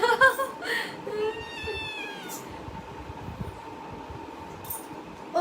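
A cat gives a few soft meows in a home, faint and brief against a steady low background hum.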